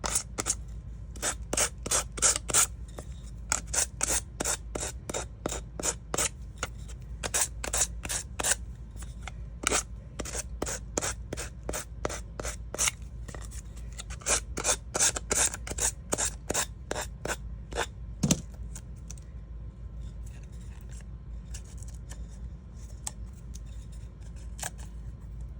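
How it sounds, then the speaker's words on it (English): Sandpaper rubbed in quick downward strokes to sand off excess paper on a thrift-flip craft piece, a run of sharp, rasping scrapes in bursts, close and fairly quiet, thinning out toward the end. "now I am going to sand off"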